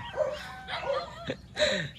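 Three short yelping barks from a dog nearby, spaced roughly half a second apart, with quiet pauses between them.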